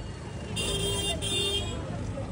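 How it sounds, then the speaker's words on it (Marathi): Busy street traffic during a crowded Ganpati arrival procession, with a steady low roadway rumble and a sustained high car horn or alarm tone sounding for about a second, near and moderately loud. "ट्रॅफिक पण भयंकर आहे."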